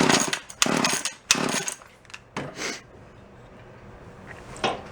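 An antique gas-powered drill engine sputters in a few loud, uneven bursts that catch briefly and die away, then a fainter cough near the end, close by.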